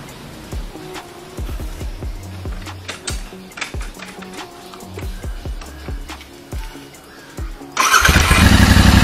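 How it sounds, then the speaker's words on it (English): A Royal Enfield Interceptor 650 motorcycle gives a series of sharp, uneven clicks and cranking knocks up close before the engine catches and bursts into a loud, steady running roar for the final second. "My motorcycle has already started"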